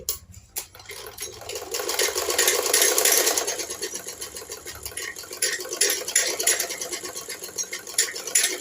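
A sewing machine stitches the lining of a blouse in short, rapid bursts, its needle chattering loudly with brief pauses between runs.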